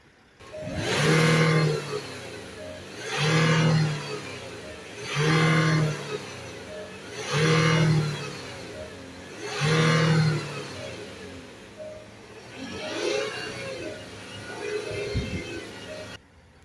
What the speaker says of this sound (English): just hold the revs, because we don't want to drive down the road like this